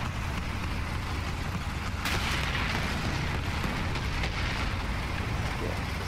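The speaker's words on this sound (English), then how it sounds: "And an artillery strike." Artillery strike explosions in the video game War Thunder during a French tank battle, heard as a continuous heavy rumble with dull booms rolling through, loud and dense throughout.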